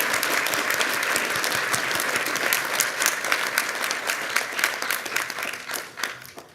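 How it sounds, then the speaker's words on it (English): Sustained applause from a large audience at a university graduation ceremony in Melbourne, dense steady clapping that fills the hall and tapers slightly toward the end. "May we kindly have a round of applause for our guests here today"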